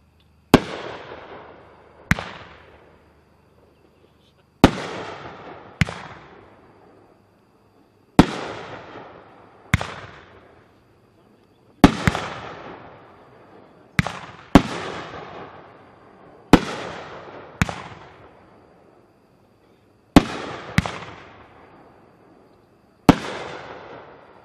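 Cutting Edge Scuba Diver firework cake firing 12 shots: sharp loud launch thumps and bursts spaced a second or few apart, some in quick pairs, each trailing off into a fading crackle and echo outdoors.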